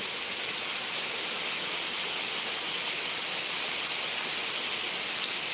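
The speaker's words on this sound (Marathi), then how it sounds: "जोरात पाऊस आहे" Heavy unseasonal rain pours down over waterlogged farm fields, a dense, steady hiss of downpour filling the whole stretch evenly and fairly close, with no voices.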